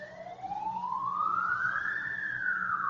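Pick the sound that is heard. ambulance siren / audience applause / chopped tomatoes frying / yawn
ambulance siren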